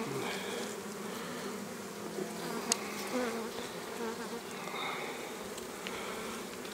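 Steady, dense buzzing of many honey bees inside a hive, a continuous close drone with no voices.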